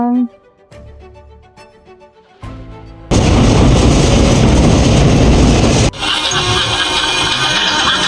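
Inside a passenger train departing Shivamogga, after a quiet start the train's loud, heavy roar suddenly takes over and continues rumbling steadily to the end.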